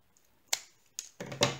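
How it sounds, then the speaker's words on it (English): Scissors cut through a paper straw for a handmade frame, giving four crisp, quiet snips spaced unevenly over under two seconds in a silent room. "I'm going to cut from here to the corner"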